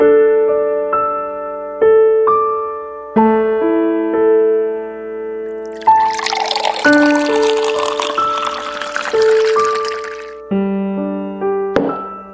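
Water poured for someone's medicine: a loud, hissing splash lasting about four seconds in the middle, over gentle tinkling background music.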